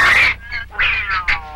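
A domestic cat fights a marten, giving loud, harsh yowls and hisses in three close bursts with brief gaps, raw and near, with no talk over them.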